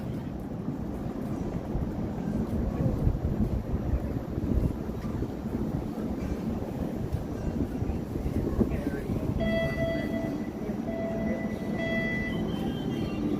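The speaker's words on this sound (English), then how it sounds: "A streetcar ride." A streetcar ride through downtown Toronto on a cold Thursday evening: a continuous rumbling rail ride with wind noise and a voice talking, then faint bell-like chimes and tones later on.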